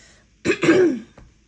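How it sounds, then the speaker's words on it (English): A short, close throat clearing, one rough guttural burst followed by a faint click, in an otherwise quiet room. "So often I'm clearing my throat"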